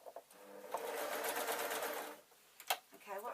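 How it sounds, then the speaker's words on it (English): A sewing machine runs steadily for about a second and a half as it stitches two pieces of fabric together, starting and stopping with short bursts around it, close and clear with no talk. "making sure that you've got both pieces of fabric and then just sewing up to the pinpoint"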